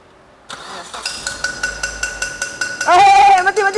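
A car with a front-end noise fault cranks in quick rhythmic bursts, then catches and settles into a loud, close running idle; voices can be heard nearby.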